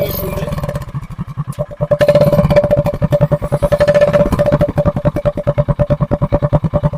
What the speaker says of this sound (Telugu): సౌండ్ అయితే వేరే లెవెల్ వస్తుంది. అచ్చం కేటీఎం బైక్ లాగా వస్తుంది.